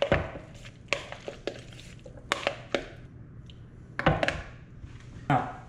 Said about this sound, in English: I'm gonna stir it all up